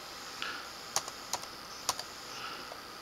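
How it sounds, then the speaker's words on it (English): Several quick keystrokes on a computer keyboard entering an IP address for a router reset, light and close, spaced irregularly over a low steady background hum. "go back to computer and type it in IP address"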